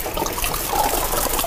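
Bottles of liquor such as Everclear, vodka and rum are poured together into a sink, giving a continuous gurgling, splashing stream of liquid at close range with no talk over it.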